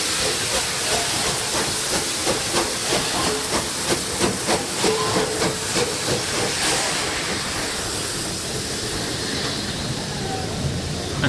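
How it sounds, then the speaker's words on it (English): Steam locomotive Tor Valley hauls a train up the Severn Valley line toward Bridgnorth during a spring steam gala. Rhythmic exhaust chuffs sound over a continuous loud steam hiss, then the beats fade into a steady roar. "our next train, pulled again by Tor Valley, to once again take us up to Bridgnorth"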